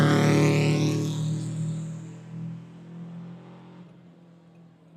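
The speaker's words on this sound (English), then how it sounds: "A little bit of rev limiter coming over there." A rally car on the Yoctangee Street stage of the Southern Ohio Forest Rally screams at its rev limiter, giving a loud, buzzing, stuttering engine note that falls away as the car moves off into the distance.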